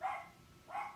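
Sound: dogs barking at the mail carrier

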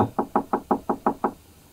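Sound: knocking on a door

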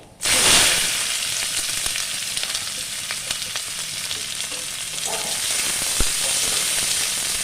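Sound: onion and green chilli frying with dry chilli and nigella seeds

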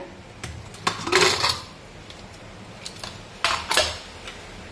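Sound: opening pressure cooker lid, pots and pans

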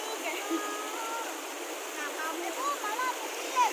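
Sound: Nan Chon waterfall flowing water

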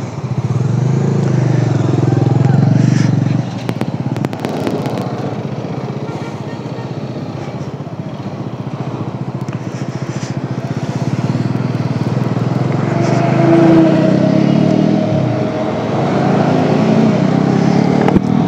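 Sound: motorcycle ride

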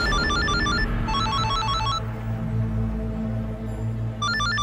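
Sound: phone ringtone ringing

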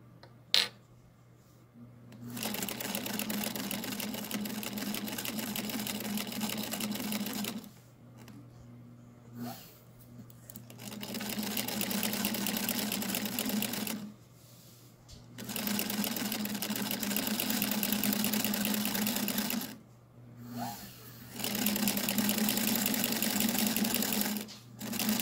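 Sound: Singer Featherweight sewing machine quilting with walking foot

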